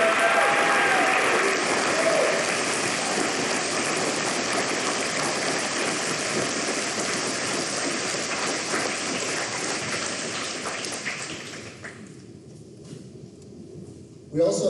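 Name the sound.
applause for graduates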